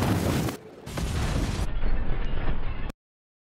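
A grenade goes off in the shooter game Call of Duty: Infinite Warfare, a loud broadband blast with a short gap and then a sustained rumbling burst that cuts off abruptly, with no talking over it.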